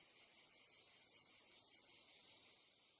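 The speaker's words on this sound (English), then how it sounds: "Cicadas." A video game creature makes a cicada-like buzzing drone, a faint, steady, high-pitched insect whir that holds evenly throughout with no voices.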